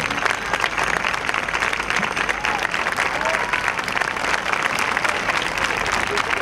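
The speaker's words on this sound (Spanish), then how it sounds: "Fuerte el aplauso para Walter Ríos" A live audience applauds for bandoneon player Walter Ríos at an Astor Piazzolla tribute concert on Music Day, a steady, dense wash of clapping that continues without pause throughout.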